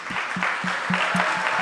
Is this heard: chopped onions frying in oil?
no